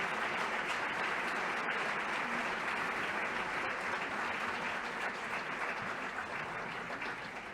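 Steady, dense applause from an audience at the 2021 Global eAwards ceremony, sustained and even throughout with no voices rising above it.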